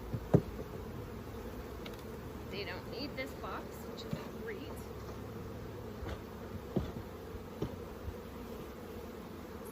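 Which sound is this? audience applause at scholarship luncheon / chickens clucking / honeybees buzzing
honeybees buzzing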